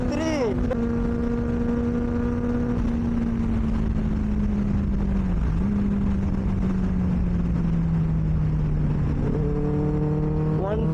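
Benelli 600i motorcycle exhaust drones loud and steady at speed in fifth gear, the engine note holding level and then easing slightly under constant wind rush, with a rising rev at the end.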